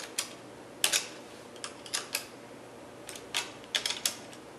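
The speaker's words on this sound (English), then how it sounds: "The first one we're going to tighten is this screw." A screw is tightened during a rear hub motor install on a prelaced SX2 e-bike wheel, giving sharp, close ratcheting clicks in irregular bursts over a faint steady background, with no talking.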